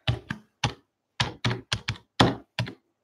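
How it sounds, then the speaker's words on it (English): Fast typing on a computer keyboard, a quick irregular run of sharp close clicks and clacks with brief gaps, alone without speech. "As you can all hear, Dad's a champion typer."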